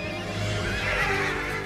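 Horses neigh and whinny in the animated film Spirit: Stallion of the Cimarron, a single loud, close whinny rising over a music and effects bed, with faint hoof clip-clop underneath.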